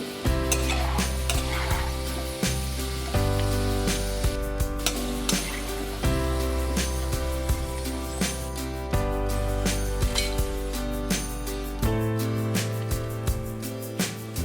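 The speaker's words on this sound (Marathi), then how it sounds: "आपण तेलात हा किस चांगला तळून घेऊ।" Grated potato fries in hot oil for upvas chivda, a steady, loud sizzle with occasional stirring clinks of a utensil against the pan, and music playing underneath.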